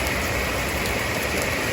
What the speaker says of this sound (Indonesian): Sampai di sini saya disambut oleh hujan.